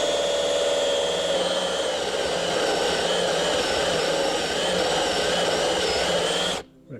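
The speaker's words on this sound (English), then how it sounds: "Cutting through cement siding is tough on the drill." A power drill with a hole saw bores through cement siding during mini split line set prep, a loud, steady high-pitched grinding whine that stops abruptly near the end.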